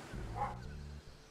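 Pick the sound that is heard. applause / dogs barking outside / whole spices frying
dogs barking outside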